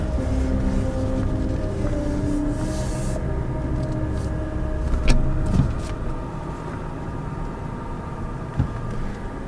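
Steady rumbling road noise from inside a moving 2018 Volkswagen Atlas S with a 2.0L turbo, with a few sharp clunks and thumps midway as the wheels roll over railroad tracks.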